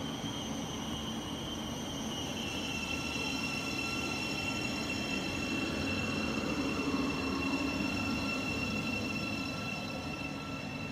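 A Thameslink Class 700 electric multiple unit running empty stock passes through Enfield Chase, a steady continuous rumble of wheels on rail with faint high squeal tones, loud and close throughout with no voices.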